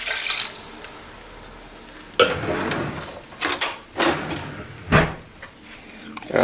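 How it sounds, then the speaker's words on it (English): Water poured into a pan of channa masala with fried spice and dissolving jaggery, giving a splashing rush followed by several loud clunks and sloshing bursts close by. "Add the water."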